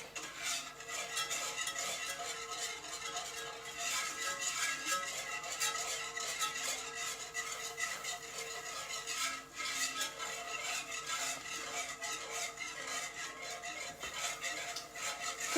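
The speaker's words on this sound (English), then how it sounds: "So you want to add the flour slowly and continuously whisk." A whisk scraping and clinking against a pan as flour is worked into a chicken piccata sauce, continuous quick stirring strokes with faint sizzling underneath, moderately quiet.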